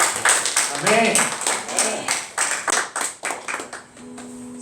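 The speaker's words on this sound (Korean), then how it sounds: "하나님 앞에 영광의 박수 올려드립시다." A church congregation clapping during a Sunday service, a run of loud rhythmic claps interleaved with voices, followed by a spoken response and a fading organ-like tone.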